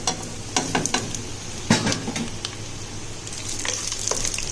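Whole spices drop into onions frying in a biryani pot, giving a steady close sizzle broken by a few sharp stirring clatters and scrapes.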